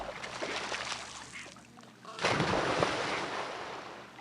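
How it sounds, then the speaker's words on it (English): A cartoonish explosion in the video game Stack the States 2, a steady loud rushing blast that swells into a heavier burst midway and sustains to the end, with no talk over it. "Let's get this explosion going."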